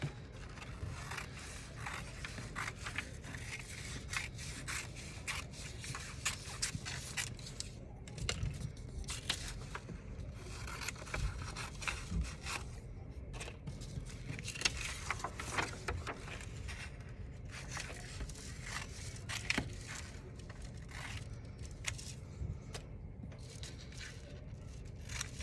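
Scissors cut slowly and carefully through printed paper for a castle shape, giving a long run of faint, close snips, crinkles and paper scrapes in an uneven rhythm, with no talking.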